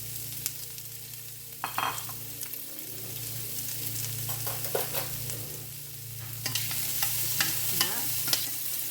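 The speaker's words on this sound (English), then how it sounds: "I'm going to saute these guys. These guys as in onions and peppers." Onions and peppers sizzle and crackle in hot oil over medium heat, with occasional stirring scrapes and clatters, steady and close, no voices.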